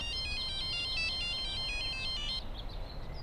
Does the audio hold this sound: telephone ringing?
yes